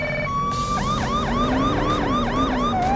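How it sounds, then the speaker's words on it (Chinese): A police car siren in a police simulator video game wails in rapid, repeating up-and-down sweeps, loud and continuous over a steady engine rumble, with no talking. "一拉警笛，哎，他们就让开了"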